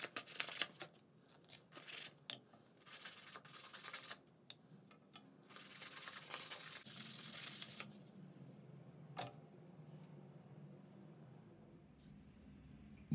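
Fine sandpaper rubs across MDF for a wooden doll's high chair in short, bright scratchy strokes that come in bursts with brief pauses, close and fairly quiet.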